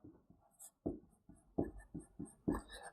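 Chalk or marker strokes on a board during a calculus lecture, short scratchy taps and squeaks in irregular bursts, close and fairly quiet, with no talking over them.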